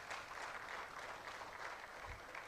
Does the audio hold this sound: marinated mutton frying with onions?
no